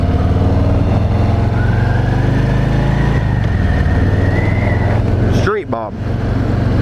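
Idling 2018 Harley-Davidson Street Bob 107 motorcycle at a dealership, a loud, steady low engine rumble throughout, with a faint rising whine and a brief sharp rattle near the end, while someone talks over it.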